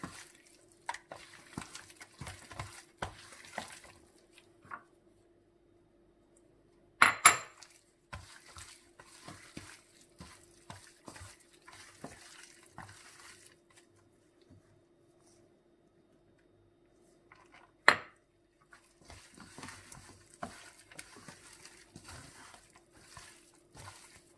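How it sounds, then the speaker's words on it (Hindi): A gram flour and cornflour batter for fish pakoras being mixed in a bowl, with faint wet stirring and dabbing, a few sharp clinks of a utensil against the bowl, and quiet pauses between bursts. "हमने बेसन डाला है इसमें, और इसको अच्छे से मिक्स कर लें।"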